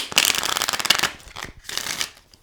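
Tarot cards being shuffled by hand, a rapid papery riffling in quick bursts, loud and close for about a second, then a shorter second burst before it trails off.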